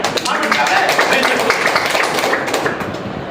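An indoor audience breaks into loud, dense applause at a talk on stem cell nutrition therapy. The continuous clapping fills the space, with a voice audible underneath.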